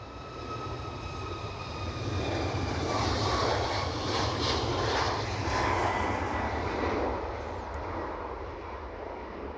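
Malta Air jet plane at Edinburgh Airport on a windy day, a steady loud engine roar that swells in the middle and eases off, with gusting wind noise underneath.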